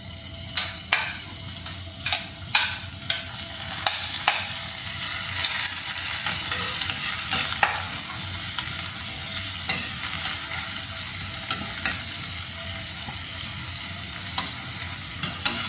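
Garlic sizzles and fries in a hot pan for sardine pasta, a steady crackling hiss broken by repeated sharp scrapes and clicks of stirring, close and continuous with no talking.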